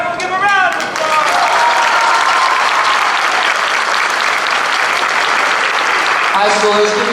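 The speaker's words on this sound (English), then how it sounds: "Everyone give a round of applause." A school crowd at a high school drumline sendoff breaks into loud, dense applause that holds steady for several seconds. Brief voices sound at the start and again near the end.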